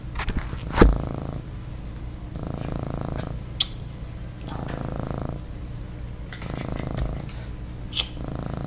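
A cat purrs loudly and close, in slow rhythmic waves of breathing in and out, with occasional small clicks and taps.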